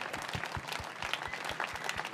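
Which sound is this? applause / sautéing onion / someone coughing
applause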